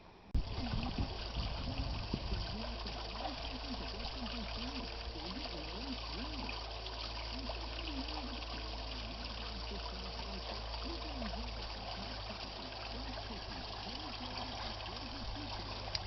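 A garden water display trickles steadily, a continuous close bubbling and splashing over a low hum, with a brief louder handling noise at the very start and no speech.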